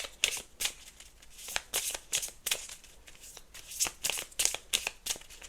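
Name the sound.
shuffling spirit guide cards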